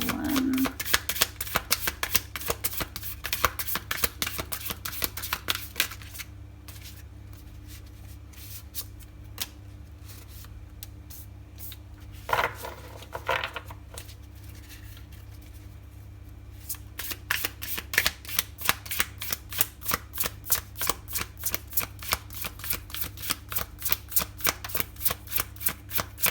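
Tarot cards being shuffled for a pick-a-card reading, close and crisp, with long runs of rapid riffling fluttering that stop midway for a quiet stretch with scattered taps before steady rhythmic shuffling resumes.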